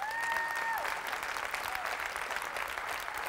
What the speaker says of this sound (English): You need to applaud right now.